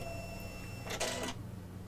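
An embroidery machine's automatic threader threads the needle, a short mechanical whirring burst lasting under half a second, close and clear against a quiet room hum.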